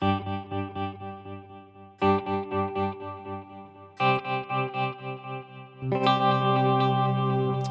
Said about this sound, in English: we have a quad tap, which sounds like this.